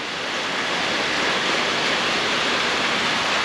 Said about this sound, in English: it's raining so hard, I'm not excited about it. You see it's just pouring.